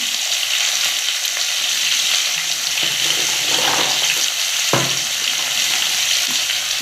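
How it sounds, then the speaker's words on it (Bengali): Potatoes and green chillies fry in a wok, a steady close sizzle with a brief clatter of stirring partway through, and no talking. "দেখো বন্ধুরা কড়ার মধ্যে আলু কাঁচা লঙ্কা দিয়েছি আলুটা ভাজা ভাজা হয়ে যায়"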